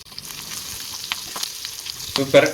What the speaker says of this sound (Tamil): ஸ்டவ்வை லோ ஃப்ளேமில் வச்சு நல்லா முருவலாக பொறிச்சு எடுத்துக்கலாம்